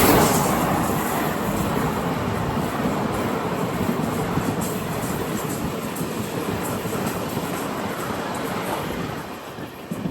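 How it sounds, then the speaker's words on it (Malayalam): The Tirunelveli–Dadar Chalukya Express rolls past on the line near Vanchi Maniyachi junction, a loud continuous roar of wheels and wagons that fades slightly toward the end, with wind buffeting the microphone. "ഇപ്പോൾ ഇതുവഴി ഒരു ട്രെയിൻ കടന്നു പോകും, തിരുനെൽവേലി ദാദർ ചാലൂക്യ എക്സ്പ്രസ്"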